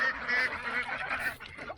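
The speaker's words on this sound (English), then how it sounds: "You probably can't even hear me over the ducks." Farm ducks at morning feeding near chickens give a run of overlapping nasal honking quacks, fairly close and continuous, with no talking.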